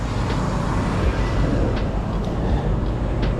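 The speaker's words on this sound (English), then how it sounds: "The train is going" A steady, heavy rumble of a train rolling by close at hand near a container crane yard, with broadband rail noise and occasional faint metallic squeals over the top.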